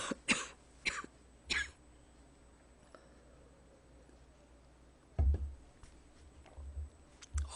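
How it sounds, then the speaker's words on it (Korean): A man with sore stomach muscles coughs three times in quick succession, then after a quiet pause gives a few more rough coughs and throat-clearing sounds, close and dry. "배 근육이 아파서 기침 못하겠어"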